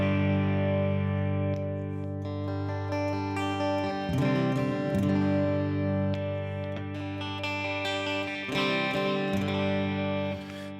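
Sustained electric guitar playing through distortion and chorus-style effects, chords ringing loud and close with a few sharper strums partway through, no talking.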